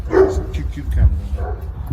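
A dog barks in short bursts, close and loud, mixed with people talking over it.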